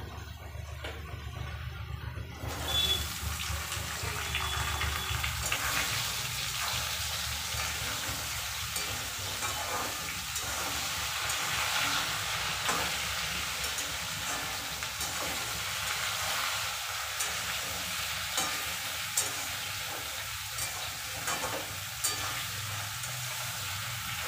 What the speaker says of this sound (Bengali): সয়াবিনগুলো একটু হালকা করে ভেজে নেব।